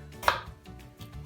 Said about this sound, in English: So what I tend to do is slice down the middle